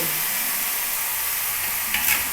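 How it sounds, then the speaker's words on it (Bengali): Mung dal fries lightly in a mix of mustard oil and white oil, giving a steady, even sizzling hiss up close, with a brief stir or scrape near the end. "এখানে মুগের ডালটাকে আমি কি করছি হালকা তেলে ভেজে নিচ্ছি"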